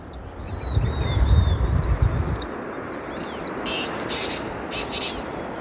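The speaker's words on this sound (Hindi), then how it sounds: "सुबह सुबह क्या प्यारी सी पक्षियों की आवाज़ आती है चारों तरफ" Several birds chirp and sing in the early morning in a mountain setting, with bright calls scattered over steady outdoor ambience and a low rumble early on.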